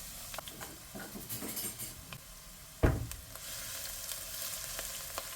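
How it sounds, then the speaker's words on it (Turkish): Chopped onions sizzle and crackle softly in hot olive oil in a pot, with a sharp clatter of a utensil against the pot partway through. "Soğanları ölene kadar kavuralım."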